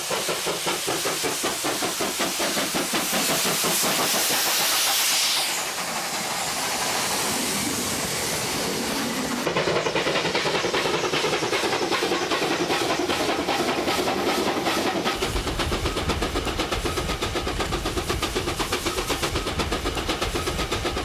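A Scottish-built steam locomotive chuffs steadily along, its rhythmic exhaust beats loud and close over clattering rails and mechanical rumble.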